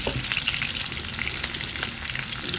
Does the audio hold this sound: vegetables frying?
yes